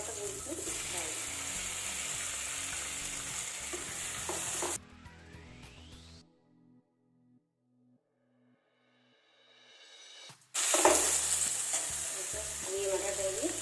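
Chopped tomatoes go into a hot pan for Punjabi tadka masala Maggi, giving loud sizzling and frying with stirring. The sizzle cuts out to near silence and a brief tonal sweep, then returns strongly.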